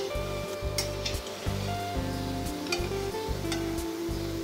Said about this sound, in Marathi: गॅसचा फ्लेम लो टू मीडियम करत हे वडे तळल्यामुळे आतमधून छान क्रिस्पी होतात